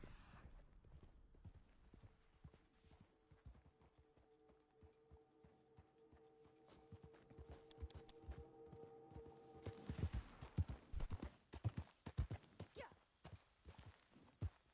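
A horse in Red Dead Redemption walks with steady clip-clop hoofbeats, sharp and close, that grow louder and busier toward the end as the animal moves nearer, with a faint tonal hum in the background.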